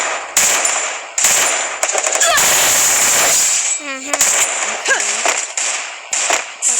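Rapid bursts of gunfire in a shooting video game, sharp loud cracks in clusters with short gaps, mixed with game sound effects and brief chatter.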